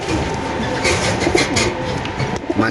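Male pigeons sit in a pigeon cage at a market stall, one a Singapore male and another an Iraqi male. Close, loud throaty cooing repeats over a busy background hum.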